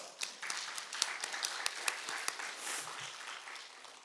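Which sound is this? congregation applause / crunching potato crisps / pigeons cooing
congregation applause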